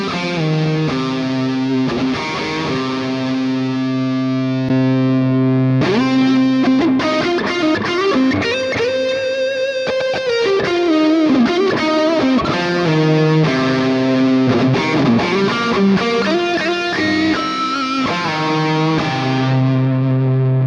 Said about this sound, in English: throw on some reverb and delay and the mid boost and try and get a lead tone going